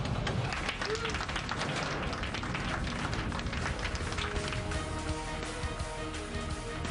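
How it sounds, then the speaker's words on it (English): Passengers aboard an airliner break into applause right after landing, a crowd of hands clapping in a continuous, crackling patter under the low hum of the cabin, with some voices mixed in. "There's a spontaneous outbreak of applause."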